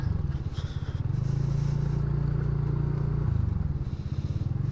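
TVS Ntorq scooter cruising on the Mumbai-Goa highway, with a steady, loud low engine drone and wind rumble running throughout, rising slightly in pitch as it holds speed.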